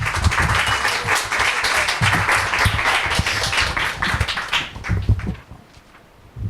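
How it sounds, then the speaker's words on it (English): An audience at a poetry reading gives a poet a round of applause, sustained close clapping with a few sharp individual claps, fading out after about five seconds into near quiet. "One more round of applause for Asiya."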